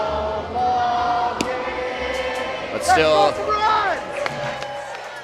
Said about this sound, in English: as you can hear there, a good amount of fans waiting to see if the Sticks can make it 4 in a row